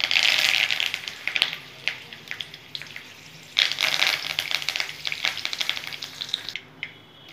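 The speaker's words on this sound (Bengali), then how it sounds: "ওটা সর্ষে ফোড়ন দিয়ে দিলাম বন্ধুরা।" Mustard seeds tempering in hot oil for a spicy semolina upma, a steady loud sizzle with sharp popping crackles throughout, a fresh burst of frying about halfway, then easing near the end; no speech.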